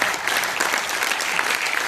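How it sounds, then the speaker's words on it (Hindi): Loud, dense applause from a crowd at a comedy poetry event in a convention hall in Rajgir, continuous and even throughout the short stretch. "तो जोरदार तालियां ये खिलाड़ी भी बजा रहे हैं"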